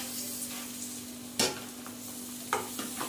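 Batter of egg, green chili, salt and flour hits a hot oiled pan, giving a steady close sizzle broken by a few sharp scrapes and clinks of utensils; no one speaks.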